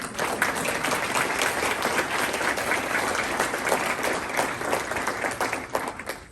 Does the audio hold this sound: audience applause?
yes